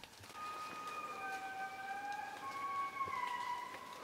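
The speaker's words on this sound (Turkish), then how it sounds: "Bu indiri indiri lemurun sesi." Indri lemurs call in the forest of Andasibe park, Madagascar, with long overlapping wailing, siren-like tones that glide and waver for several seconds, moderately distant and clear over a faint background hiss.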